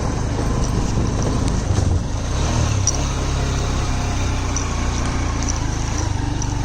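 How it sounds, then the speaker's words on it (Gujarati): A motorcycle climbs a steep, rough road up to Songadh fort, its engine firing in a steady, continuous low thrum close to the microphone, with wind noise over it throughout. "તમે ફાયરિંગ સાંભળી લો."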